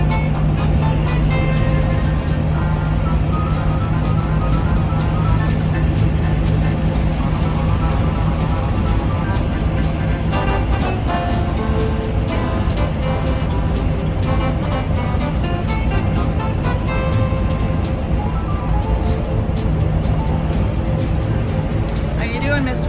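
A truck overtakes a car on the road, heard from inside the moving vehicle as a loud, steady roar of road and engine noise under ongoing conversation.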